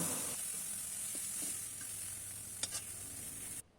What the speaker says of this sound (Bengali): লবণ হলুদ মেখে রাখা চিংড়ি মাছগুলো দিয়ে দিচ্ছি নেড়ে চেড়ে ভেজে নিচ্ছি